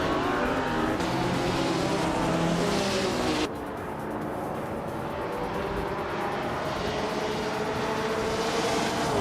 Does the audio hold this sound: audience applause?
no